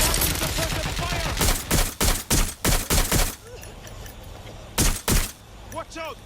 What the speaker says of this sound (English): Providing suppressive fire.